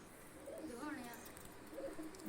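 Kaana breed pigeons coo softly in a continuous low murmur, faint and somewhat distant, with a voice talking over them.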